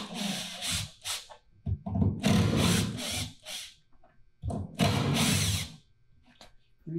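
A cordless power drill backs screws out of a wooden platform in several loud whirring bursts of about a second each, separated by short quiet pauses and handling clicks.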